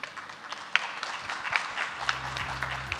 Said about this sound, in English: let's join us to give the applause for our panelists today